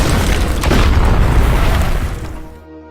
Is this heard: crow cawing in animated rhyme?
no